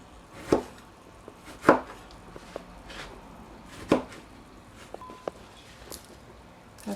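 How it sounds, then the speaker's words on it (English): A knife cuts half an orange into wedges on a board. Three sharp, distinct chops land at separated moments over quiet background, with a few fainter taps between them and no talk. "going to use half of this orange. I'm also going to cut this into wedges."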